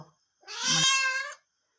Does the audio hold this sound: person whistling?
no